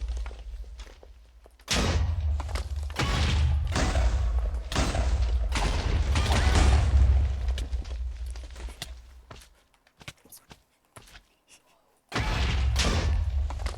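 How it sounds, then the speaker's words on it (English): An explosion spell cast in a modded Minecraft game, a run of loud, close booming blasts and thuds that rumble on for several seconds, fade to near silence, then burst again. "You like my explosion spell?"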